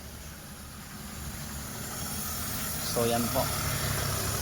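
A Hyundai Eon's engine idles steadily right after a timing belt change, a low continuous hum with a faint hiss, while someone talks over it.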